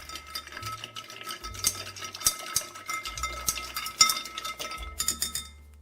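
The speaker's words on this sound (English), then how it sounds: "Just stir it up." A spoon stirs a bourbon and black raspberry cocktail with ice, giving repeated clinks and rattles of ice in a glass at a close, steady pace, with no talking.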